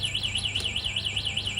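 Anti-theft alarm on a DYU A1F Pro 16-inch folding electric bike: a loud, close electronic siren warbling up and down in a quick regular cycle, continuous throughout with nothing else over it.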